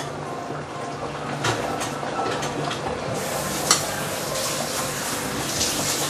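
A pot of bak kut teh with vegetables and hinoki mushroom simmering: a steady bubbling sizzle with occasional stirring scrapes and a brief clink, close and continuous.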